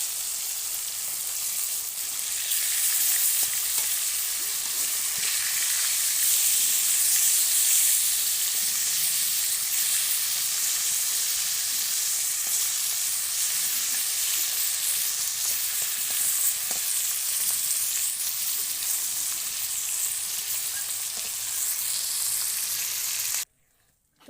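Hilsa fish rubbed with turmeric and salt fries in a pan, giving a steady, loud, close hiss and sizzle of hot oil that continues unbroken for over twenty seconds before stopping abruptly.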